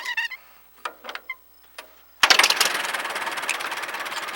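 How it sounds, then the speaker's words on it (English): A 1938 Allis-Chalmers tractor engine with a removable starting crank cranks over and catches, settling into a loud, steady, rapid idle after a few brief sharp sounds. "One of the things that's fairly easy on Allis-Chalmers is the way they start."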